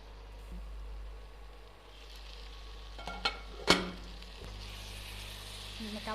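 Potatoes frying with four slit green chilies for aloo dum, a low steady sizzle under a hum, with a few sharp spoon-on-pan clinks and scrapes in the middle and a brighter hiss toward the end.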